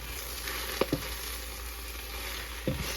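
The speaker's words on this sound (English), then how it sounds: "You can see it's just getting smaller and smaller as I'm turning them in that bacon grease." Collard greens sautéing in bacon grease, a soft, steady close sizzle with a couple of brief scraping turns of the greens in the pan.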